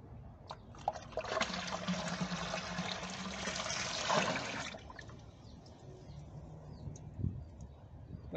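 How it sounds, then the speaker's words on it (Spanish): Water poured from a jug pours in a steady splashing stream for a few seconds and then stops, followed by faint drips and quiet background noise. "Vamos a echarle otra jarra de agua."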